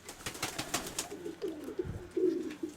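White pigeons coo close by in a loft, a few soft throaty rolling calls in the second half after some scattered rustling and fluttery taps, with no talk.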